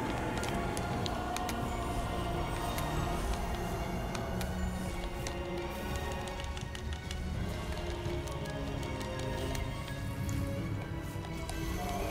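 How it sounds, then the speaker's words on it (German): Steady rain from the video game Grime, a dense, even patter with fine crackling drops that runs unbroken throughout at constant loudness and without talk. "kann man den blocken oder nicht, den Regen?"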